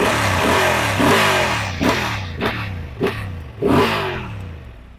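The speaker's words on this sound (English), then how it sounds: "You will like listening to that motor" A Honda Transalp 750cc parallel twin with a 270-degree firing order revs close by in about five sharp throttle blips, each rising and falling over a steady deep engine note.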